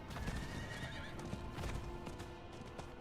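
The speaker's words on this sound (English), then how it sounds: "Let me just get on my horse and go all the way there." A horse in Diablo 4 gallops with rapid, steady clip-clop hoofbeats and lets out a whinnying neigh, loud and close throughout the short stretch with no talking.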